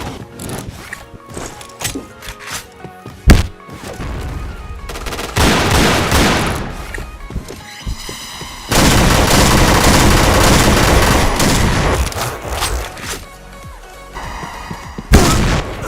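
Gunfire in the online shooter PointBlank comes as rapid bursts and single sharp shots. A dense, loud sustained volley runs through the middle, with scattered shots before and after.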